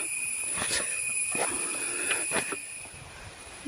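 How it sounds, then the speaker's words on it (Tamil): Beetles and other insects in the forest on the Agasthyamalai trekking trail keep up a steady, piercing high drone throughout, while nearer rustling footsteps crunch through at intervals before fading. "வண்டுகள்லாம் பயங்கரமாக சத்தம் போடுதுங்க"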